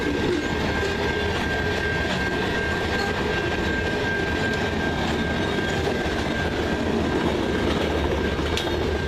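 A CN freight train rolls steadily past nearby, its rumble and rail noise filling the clip without a break, while a sustained tone runs above it, fitting the rear DPU locomotive in distributed power service as it comes up.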